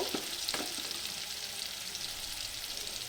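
Onion paste fries in a pot for a mutton red curry, giving a steady, close, dense sizzle with a few sharper crackles early on and no talking.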